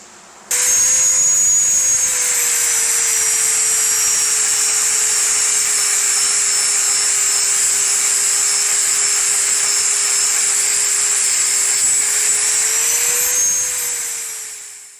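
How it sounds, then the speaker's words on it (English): An angle grinder with a flap disc cleans the edge of a Hustler zero-turn mower blade, a loud, steady high-pitched whine that holds constant for over ten seconds before spinning down at the end. "I'm just gonna take flap disc, it's not a grinder, not gonna take too much off."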